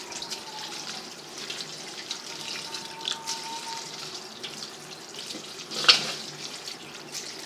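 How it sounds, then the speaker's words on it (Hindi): Cold water runs steadily from a tap over boiled macaroni, splashing softly into a sink or colander, with a brief louder splash near the end. "अच्छे तरीके से इस पर ठंडा पानी डाल दें ताकि मैक्रोनी जो है वो आपस में जुड़ ना जाए"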